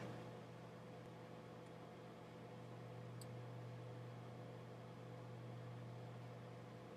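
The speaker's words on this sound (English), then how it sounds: "I've got quite a few external hard drives that are chugging along right now, so they are making some noise" Several external hard drives hum together in a continuous low drone, steady and faint, with no speech and no changes over several seconds.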